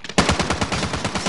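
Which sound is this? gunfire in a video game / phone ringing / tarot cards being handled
gunfire in a video game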